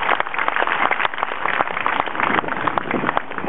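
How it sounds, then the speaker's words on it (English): An outdoor audience at a Fourth of July event in Old Town gives a warm round of applause, a steady dense patter of many hands clapping throughout, with no talk over it. "applause."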